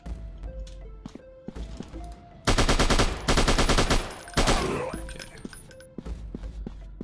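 Heavy automatic gunfire in the PC horror shooter C.R.E.E.P.S, with loud sustained bursts rattling through the middle of the clip between quieter stretches of game ambience and scattered thuds.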